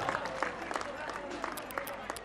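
Audience at a Durga Puja event claps in a thin, scattered patter of applause over crowd murmur, with a voice talking over it at moderate distance.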